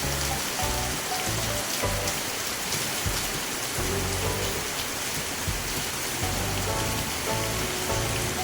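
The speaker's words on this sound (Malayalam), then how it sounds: "രാവിലെ തന്നെ മഴ തകർത്ത് പെയ്യാട്ടോ." Heavy morning rain pouring down steadily, a dense close patter of drops drumming on surfaces throughout, loud and unbroken with no voices.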